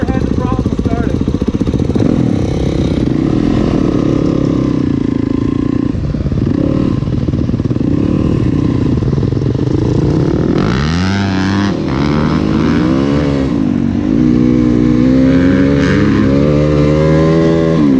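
Motorcycle engine running loudly at close range, idling steadily and then revving hard partway through, with rising and falling engine pitch and mechanical clatter throughout.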